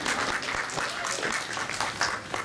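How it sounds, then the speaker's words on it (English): A crowd at the Portland Retro Gaming Expo cosplay contest breaks into steady applause, dense overlapping claps holding at an even level throughout, moderately close and filling the room. "I didn't even ask for a round of applause and that guy is on it."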